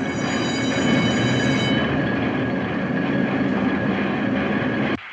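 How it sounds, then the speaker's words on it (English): A newspaper printing press runs in a steady, dense mechanical roar with rhythmic clatter, loud and continuous, cutting off abruptly near the end. "That noise, what's that racket? That's the press, baby."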